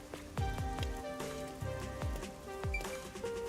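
Constant rain in the game Rain Code, a steady patter of drops falling across surfaces with musical tones and repeated low plucked notes layered over it, continuous throughout.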